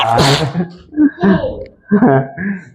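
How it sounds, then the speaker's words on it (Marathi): A single close, breathy sneeze bursts out at the start. Voiced moaning and groaning sounds from the same person follow in short phrases. "शिंक येते का रे बा"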